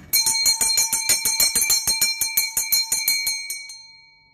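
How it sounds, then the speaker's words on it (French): A small hand bell rings in quick, even shakes, about two dozen bright metallic strikes in a steady rhythm that then fade out in a short ringing tail, loud and close with no talk. "je cherche ma cloche"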